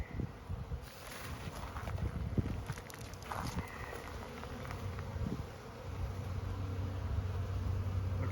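Honeybees hum and buzz around beehive entrances during a spring hive inspection, a soft continuous drone with occasional louder passes of single bees close by, plus faint handling noises.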